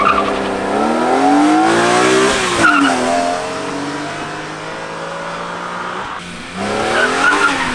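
A high-mileage BMW E46 M3 with the S54 straight-six, heard from outside, revs hard and climbs through the gears with rising, rasping pitch, brief shift gaps, and tire noise, loud and close.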